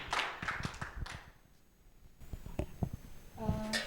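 A church congregation claps for Jesus in scattered, uneven bursts: a few sharp claps at first, a short lull, then a livelier run of claps before a voice begins.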